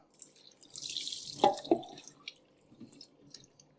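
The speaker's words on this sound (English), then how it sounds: "let's start getting our curds into the cheesecloth lined colander." Cheese curds slide into a cheesecloth-lined colander as whey splashes and drips, with a soft watery pour and a couple of clearer drips, close and fairly quiet.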